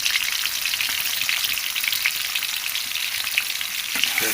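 Onions fry in hot oil in a pan, a steady bright sizzle with small crackles and pops and the occasional stir, close and continuous, with no talking.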